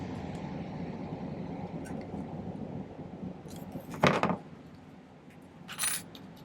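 Silver solder for a bezel is snipped with two sharp metallic clicks a couple of seconds apart, over low room hum.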